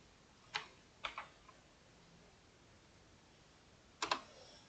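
A computer keyboard being typed on in short bursts: a couple of quick clicks, a pause, then a final cluster of keystrokes, faint and close in a quiet room.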